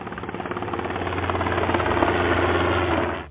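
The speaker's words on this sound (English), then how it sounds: "wealthy New Yorkers fly to the Hamptons in their private helicopters" A private helicopter flies over the Hamptons, its rotor beating a steady rapid thump under a loud engine drone that swells and then cuts off.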